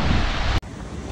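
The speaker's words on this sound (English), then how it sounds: "It's blowing 28 knots, 30 knots, all day long." Strong 28–30 knot wind roars over waves at sea aboard a sailing catamaran in bad weather on an Atlantic crossing, a loud broadband rush that briefly cuts out and returns.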